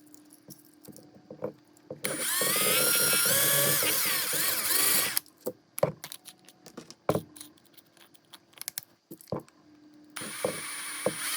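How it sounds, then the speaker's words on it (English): A power drill whines loudly for a few seconds while drilling out a toy car, then small metal clicks and rattles follow before the drill starts again. "we're going to have to just drill it out first."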